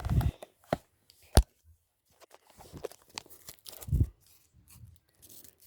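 Quiet crinkling and sharp tearing of a plastic packet, a few separate rips and rustles with pauses between them, close by.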